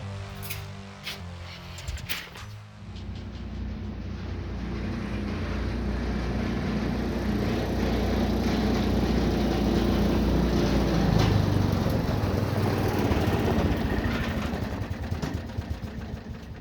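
A roughly 70-year-old John Deere tractor, built in the 1950s, starts after a few clanks, then its engine runs with a steady low chugging that swells a little and keeps going for over ten seconds, close by and with no voices.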